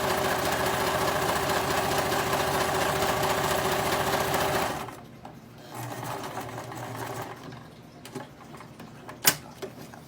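A sewing machine runs steadily for about five seconds, stitching all the way around a fabric book bag with a loud, close, rhythmic mechanical whir, then stops, leaving faint handling noises and a sharp knock.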